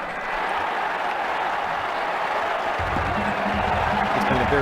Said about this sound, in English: The crowd are giving him a warm round of applause.